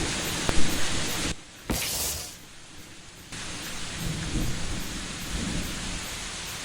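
Rain pours steadily on a deserted village road at night, with rumbling thunder rolling in. The downpour makes a continuous hiss throughout, briefly dropping out partway and then returning at a moderate level.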